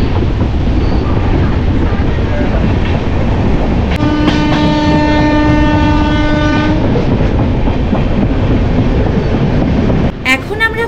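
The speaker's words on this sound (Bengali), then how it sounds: "এখন আমরা ক্রস করছি গুলমার রেলওয়ে ব্রিজ" Train crossing the Gulma railway bridge above the Mahananda River in North Bengal, a loud steady rumble and rhythmic clatter of wheels with a long sustained horn blast midway, heard close from on board.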